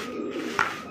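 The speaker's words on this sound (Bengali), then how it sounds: "বন্ধুরা আমরা দেখতে পাচ্ছি চমৎকার আরো এক জোড়া কিন্তু কপার লাট কবুতর" A Copper Lot pigeon, one of a pair, gives a single brief soft coo near the middle over a steady background hum.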